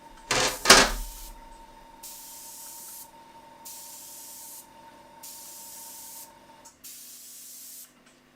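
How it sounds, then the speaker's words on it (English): A single action airbrush sprays paint in repeated short hissing bursts of about a second each, close and fairly quiet, following a louder handling noise at the start. "And this is how the single action airbrush works."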